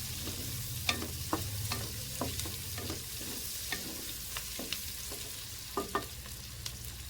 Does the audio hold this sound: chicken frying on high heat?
yes